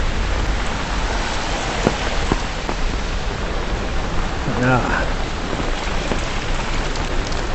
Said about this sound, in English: The rain's actually picking up now.